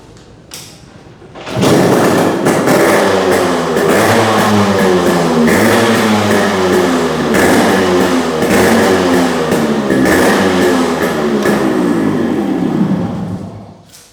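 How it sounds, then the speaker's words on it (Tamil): Yamaha RX-series two-stroke motorcycle engine firing up after a thump and running steadily loud, with repeated revs rising and falling, close by and without talk. "இந்த வண்டி ஸ்டார்ட் பண்ணி காட்டுறேன்."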